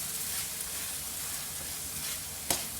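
Chicken livers, trimmed and washed, hissing in a frying pan over onions in an Iraqi home kitchen, a steady broadband sizzle with one sharp crackle near the end, no talking.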